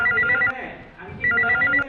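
A telephone rings indoors with two bursts of electronic trilling separated by a short pause, clear and fairly loud, with a low murmur underneath.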